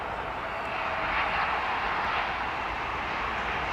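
The engines of a KLM Airbus A321neo jet at London Heathrow give a steady, fairly loud broadband roar heard outdoors, with no talking.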